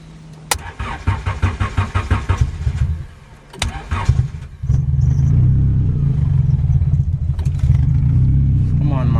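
A lowered Honda Civic cranks through several rapid, stuttering starter bursts, pauses, cranks again, then catches and settles into a steady, loud idle, with a voice briefly heard.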